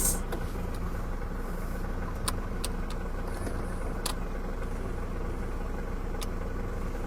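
A car engine idles steadily during a pre-drive check, a low continuous rumble with no change in pitch, broken only by a few faint clicks and taps.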